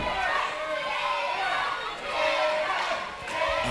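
Wrestling event crowd at a WrestleForce live show in Wickford, a dense wash of cheering, shouting and jeering voices that swells and dips continuously, close and loud throughout.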